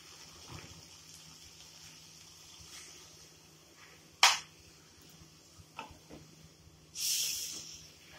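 Water is added to egg biryani masala frying in a pan, giving a short burst of sizzling hiss near the end after a sharp clatter earlier, with a quiet background and no talking.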